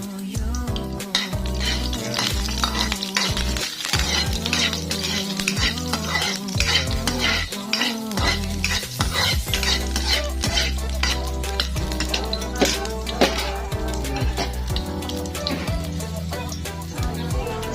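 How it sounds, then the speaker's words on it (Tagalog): Garlic fries in hot oil, giving a loud, continuous sizzle, while a utensil stirs and scrapes the pan in frequent close clanks throughout. "Antayin lang natin na mga boss na uminit yung mantika, tapos lagyan na natin yung bawang."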